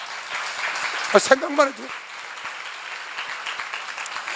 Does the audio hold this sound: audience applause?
yes